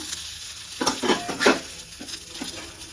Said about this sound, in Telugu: ఇట్లా వేయించుకోవాలా సో కొంచెం కొబ్బరి వేసుకోవాలా